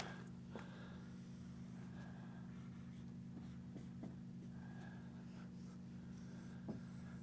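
A marker squeaks and taps across a classroom board as a physics diagram is drawn, faint short strokes spread over a steady hum of room noise, with no talking.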